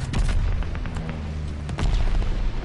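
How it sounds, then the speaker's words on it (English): Bombing run explosions in Call of Duty: Vanguard, deep booming blasts with scattered sharp gunshot cracks, two heavier thuds landing close together amid a continuous rumbling barrage. "Friendly bombing run on the way."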